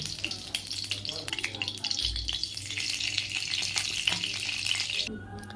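Two tablespoons of ghee heating in a kadai on the stove for modak, giving a steady, fairly loud crackling sizzle with faint clinks, which thins out abruptly near the end.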